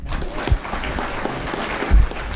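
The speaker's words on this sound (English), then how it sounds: "Let's have a round of applause for" Audience applause at a talk event, a dense, steady wash of clapping with a couple of heavy thumps and little speech.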